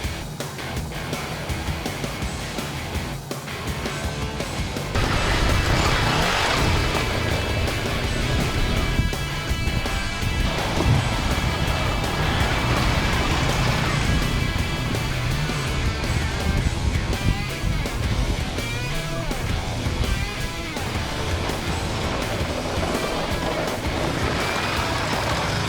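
Macbor Montana XR5 trail motorcycle ridden off-road on dirt, its engine droning steadily and loudly throughout with continuous wind and road rumble, no voices.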